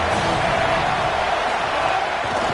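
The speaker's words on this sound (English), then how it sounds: "The Buckeye crowd alive on third down." Stadium crowd roar from a college football video game featuring an Ohio State home crowd, a dense, loud, continuous wash of cheering with no clear voices standing out.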